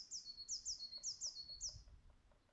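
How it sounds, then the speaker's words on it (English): Birdsong in a forest at dusk: about six clear, bright descending whistled notes repeat rapidly in the first two seconds, fairly near but soft, over a quiet low rumble with no speech. "All the birds are letting everyone know we're still here and we're going to bed."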